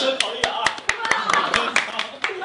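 A small group claps in uneven bursts of sharp, close hand strikes, while people exclaim and talk excitedly over the clapping.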